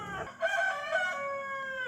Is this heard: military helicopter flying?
no